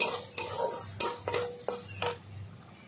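Spices and ginger paste being stirred in a pan: a run of sharp scraping strokes at a steady pace, several distinct clangs of the spoon against metal over a low background sizzle, close and fairly quiet, with no voices.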